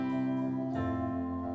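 Hammond organ sustaining gospel-style chords in a short sequence, soft and steady with one chord change partway through, no voices.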